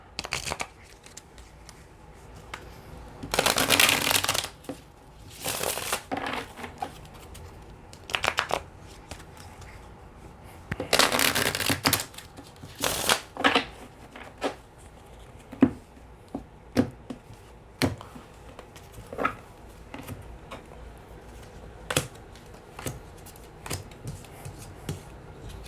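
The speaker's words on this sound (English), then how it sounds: "But let's pull some tarot here." Tarot cards are shuffled and handled close by, with several loud riffling bursts and softer slides, taps and rustles between them over a quiet background, and no talk.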